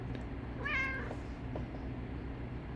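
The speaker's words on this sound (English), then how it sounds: "Hey, kitty cat." A house cat gives a single clear meow, short and fairly close, over a low steady background hum.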